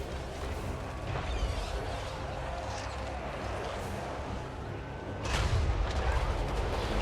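Artillery piece firing in a Warhammer-style battle game, a low rumbling boom with a sharper burst near the end over steady battlefield noise.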